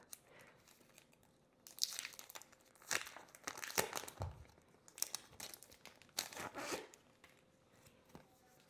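A package of dot stickers is torn open by hand, producing several bursts of close, crinkling plastic and paper rustle separated by short pauses, with no talking.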